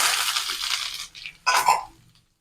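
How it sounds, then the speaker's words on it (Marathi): Mustard seeds, cumin, curry leaves and garlic hit hot oil for a chutney tempering: a loud, bright sizzling hiss that dips briefly, then flares up again before cutting off. "तेल छान तापलं, मोहरी मोहरी फुलली की जिरं, थोडासा कढीपत्ता, लसूण,"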